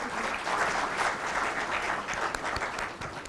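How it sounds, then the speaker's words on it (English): An audience claps for a panel at an international conference, a steady round of applause that holds evenly through the short stretch, with no voices on top. "please give this panel a warm-hearted round of applause"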